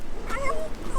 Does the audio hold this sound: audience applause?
no